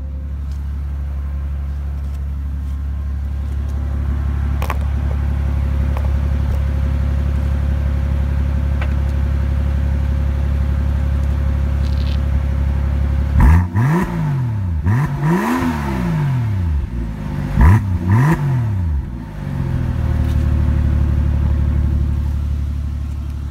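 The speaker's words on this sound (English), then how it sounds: "Best to give you a little exhaust note too" A 2017 Mercedes G65 AMG V12 in matte black idles with a steady low exhaust drone, then revs sharply three times in quick succession before settling back to a rumbling idle, with no talking.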